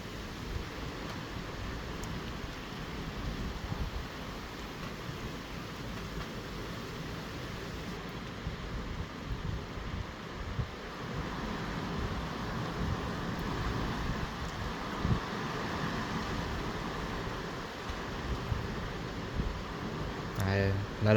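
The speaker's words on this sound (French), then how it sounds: "le vent augmente en même temps que la pluie" Storm Goretti sends gusting wind and rain over Bordeaux, a steady broadband rush of wind and rainfall that swells slightly midway, moderately loud and continuous.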